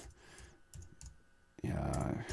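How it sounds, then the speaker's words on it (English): Computer keyboard typing while entering song details into music production software, quick clicking keystrokes that grow denser and louder in the second half, close to the microphone with no talking. "Pardon my typing."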